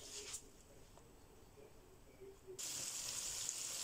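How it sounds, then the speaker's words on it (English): Faint, steady sizzling of coated chicken frying in hot oil, which suddenly grows louder and brighter partway through as more crackle takes over. "the oil is hot and I've put my coated chicken in to fry"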